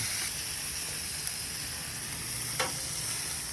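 Burgers sizzle on a Blackstone griddle with a steady, close, hissing fry throughout, broken by two small sharp pops or taps, with no talking.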